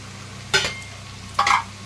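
Ground chili, coriander, Kashmiri chili and cumin powder land in a pan of frying ginger and garlic for mutton biryani. A low sizzle runs throughout, and two sharp bursts of stirring and spattering rise over it.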